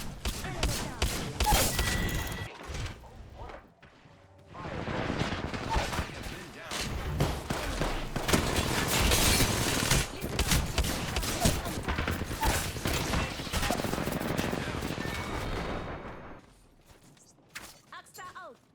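Video game gunfire in bursts of repeated loud shots and thuds, fairly continuous from about 4 to 16 seconds, with an earlier burst at the start and a quieter gap near 3 seconds; speech is mixed in.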